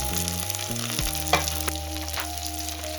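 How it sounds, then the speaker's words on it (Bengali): Chopped tomato and slit green chilli hit hot oil in a pan, setting off a loud, close, continuous sizzle with a brief stir partway through and no speech. "টমেটো কুচিটা দিয়ে দিচ্ছি আর কাঁচা লঙ্কা কুচি চেরাটা দিয়ে দিলাম"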